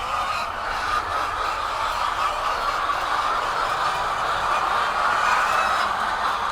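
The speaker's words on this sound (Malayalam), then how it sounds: "ഇതാണ് നമ്മളെ കോഴികൾ കേട്ടോ" Dense crowd of chickens at a large Tamil Nadu egg-laying poultry farm, housed in small cages of a few birds each, producing a continuous loud wash of overlapping clucks and chatter with no pauses.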